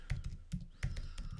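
Typing on a computer keyboard, a few quiet, close key taps in an uneven rhythm over a short stretch.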